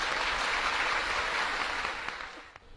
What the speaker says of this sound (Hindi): तालियों से स्वागत।